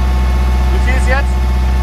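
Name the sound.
engine running at full throttle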